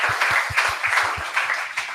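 Audience applause at a Teachers' Day ceremony, a steady dense wash of clapping with a rhythmic low thumping beneath it, moderately loud and continuous throughout.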